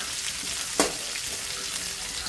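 Onion and garlic sizzle in hot oil for adobong squid as they are stirred, a close, continuous frying hiss broken by one brief scrape of the utensil near the start.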